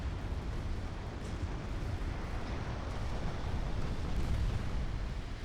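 Small 2.9-inch naval guns fire in a steady barrage in Ultimate Admiral Dreadnoughts, a dense, continuous rumble of distant overlapping bursts with no clear breaks.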